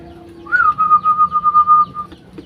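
A zebra dove (perkutut) of the Satrio Lelono line, a Mataram-type rhythm bird, gives one soft, warbling coo that rises and then holds a long wavering note, close by and with no one talking.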